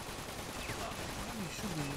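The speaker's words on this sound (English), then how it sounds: "I'm getting shot." Gunfire in the game 50 Cent: Bulletproof rattles along as rapid, fairly quiet shots beneath in-game voices and a player talking.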